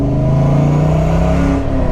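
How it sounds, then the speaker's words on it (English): A Ford Mustang Cobra convertible's V8 with a Flowmaster exhaust revs loudly and close, a steady deep throaty rumble that rises and eases across two seconds, with no voices. "I still think a Ford V8 with a Flowmaster is the best sounding V8 ever."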